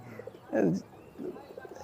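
A local Khulna pigeon gives a single short coo, close and clear, followed by faint softer murmurs against a quiet room.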